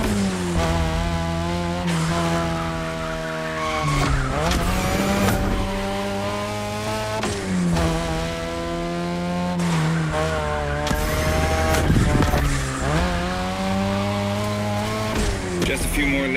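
A Mazda RX-7 racing in the video game The Crew Motorfest, a loud engine rising and falling through gear changes with bursts of tire squeal and skidding, a voice speaking over it at times.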